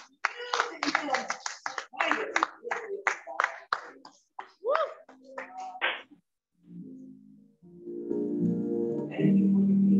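A church congregation claps for their pastor in a dense burst of applause over the first half, then it drops away and soft organ or keyboard chords rise as music begins.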